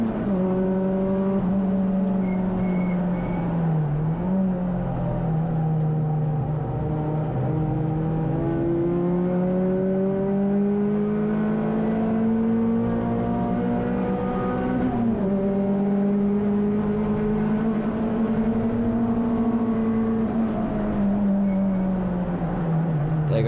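Saloon race cars in a packed Tin Tops field at Brands Hatch roar continuously, one engine loud and near, its pitch climbing and dropping through gear changes and corners for the whole stretch.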